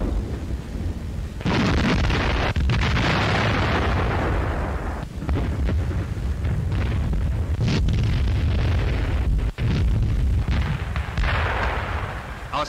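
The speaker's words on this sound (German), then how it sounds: "Wo sich der Widerstand zu versteifen droht, muss Artillerie heran." Artillery fire and explosions in a wartime German newsreel, dense heavy booms and rumbling blasts rolling one into another, loud and continuous with brief sharper cracks, no speech over it.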